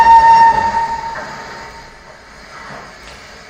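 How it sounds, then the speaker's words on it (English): A train in a wartime-era film passes with a sustained horn blast at the start, then a steady rolling rumble of railcars that fades to a quieter hum. "I wish that train was going to Hogwarts"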